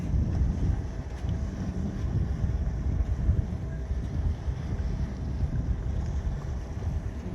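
Steady low rumble of wind waves washing against a sailboat hull, with the boat gently rocking; continuous and fairly close, no voices.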